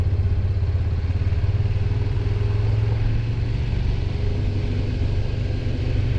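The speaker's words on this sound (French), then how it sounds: "ce sont les porte-caisses pures qui viennent rechercher les caisses dans les rangées et qui les amènent" Orchard crate-carrier vehicles hauling fruit crates from the tree rows to trucks, a steady mid-pitched engine rumble with some clatter running throughout at close range.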